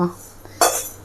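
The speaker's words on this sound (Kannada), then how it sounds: "ರವೆನೆಲ್ಲ ಹುರಿದಿದ್ದನ್ನು ತೆಗೆದು ಇನ್ನೊಂದು ಪಾತ್ರೆಗೆ ಹಾಕೋತಾ ಇದ್ದೀನಿ" Roasted semolina is scraped from a frying pan into another metal vessel, giving a sharp clatter of metal on metal followed by a brief rattling pour, close and clear.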